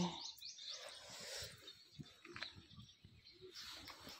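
Scattered bird chirps and calls, fairly faint, over a quiet foggy outdoor background in rural Konkan, with occasional soft knocks and rustles near a lit wood stove.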